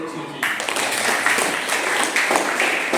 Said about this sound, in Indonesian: tepuk tangan dong untuk Suci.